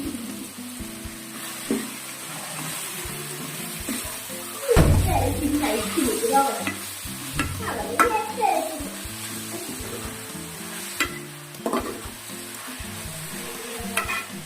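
Tomatoes sautéing in a pan for beef varattiyathu: a steady sizzle and frying hiss with stirring scrapes and a louder burst of spattering midway, plus faint voices in the background.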